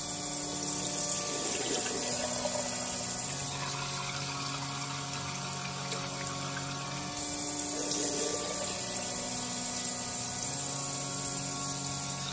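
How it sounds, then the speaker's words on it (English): Water runs steadily into a pot of rice while it is stirred by hand and the starchy rinse water is poured out, a continuous splashing, trickling wash with shifting gurgles over about twelve seconds. "continuously stir with your hands while filling it up almost all the way and then pouring out the water like so"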